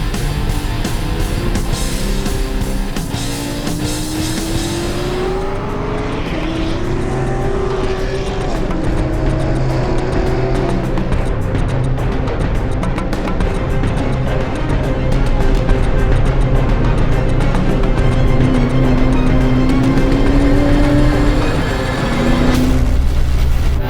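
A Ford Fiesta and a C7 Corvette race on a track, engines roaring loudly and continuously, pitch climbing and falling through repeated gear changes and a sharp drop near the end.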